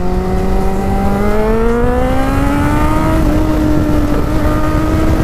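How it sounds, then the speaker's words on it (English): Suzuki GSX650F motorcycle engine heard from the rider's position, climbing steadily in pitch as it revs up under acceleration, a loud continuous whine over road and wind noise, with no talking. "we'll see if we can get up in the revs now"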